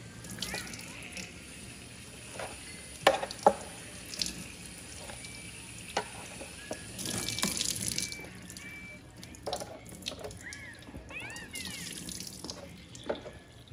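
Water runs from a tap while a child's hair is rinsed, a steady faint flow with drips and sloshing splashes, and brief clatters come through under occasional talk.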